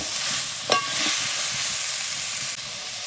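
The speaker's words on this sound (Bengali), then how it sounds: "তো আমি কলার মোচাটা সরিষার তেলেই ভাজছি এবং সরিষার তেল দিয়ে আমি করব।" Banana flower frying in mustard oil gives a steady, close sizzle and hiss throughout, with one brief clink of a utensil early on; no voices.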